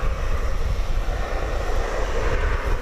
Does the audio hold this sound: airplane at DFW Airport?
yes